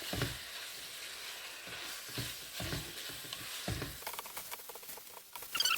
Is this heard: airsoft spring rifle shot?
no